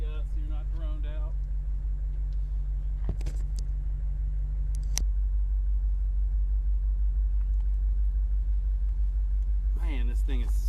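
Engine of a 2023 BMW M8 Competition Convertible holds a steady, deep rumble throughout, with a person talking briefly at the start and again near the end.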